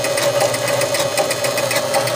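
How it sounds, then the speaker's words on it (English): The old motor of a 1976 Gottlieb Card Whiz pinball machine runs under repair, making a loud, steady mechanical whir with a fast rhythmic knocking pulse throughout, with no talking. "that's what the old motor looks like going around and around"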